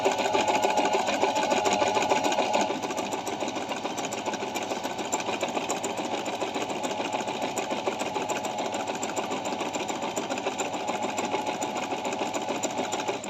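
A Singer Digital 1408 sewing machine stitching a decorative design: a continuous fast mechanical whir and rattle close by, slightly louder at first, then settling into a steady, even running hum with no speech.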